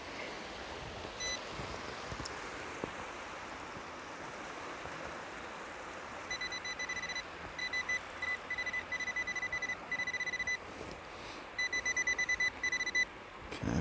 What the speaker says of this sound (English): I'm going to get the pinpointer on that just to narrow it down a little bit